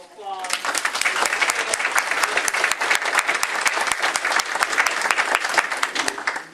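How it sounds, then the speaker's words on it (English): Sustained applause from a board meeting audience for a team of young players, dense steady clapping that swells quickly and holds for several seconds with no talk. "Let's give them a round of applause."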